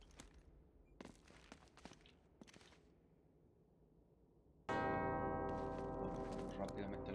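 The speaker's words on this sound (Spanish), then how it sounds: "Sonan las campanas, amigos." Church bells in the video game Uncharted: Drake's Fortune strike in a few sharp hits, then swell into a loud, sustained ringing that fills the second half.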